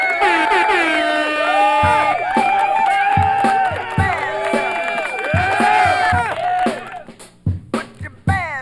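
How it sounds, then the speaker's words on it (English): An audience at a live show cheers and whoops, with voices rising and sliding in excited shouts before breaking into scattered, uneven claps and fading noise near the end. "Give yourselves a round of applause for being here."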